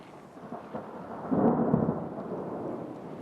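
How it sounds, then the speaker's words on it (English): Thunder rumbling low and broad from a storm in a canyon, swelling in the middle and fading, with light rain hiss underneath and no voices. "storm moving in"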